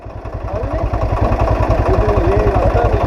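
A motorcycle engine idles loudly and close on a mountain road in Ladakh, a steady pulsing thump, while a voice speaks briefly over it.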